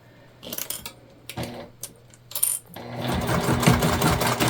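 A sewing machine back stitches along a pouch, with short bursts of stitching and handling clatter, then a steadier, denser run of stitching toward the end, close and moderately loud.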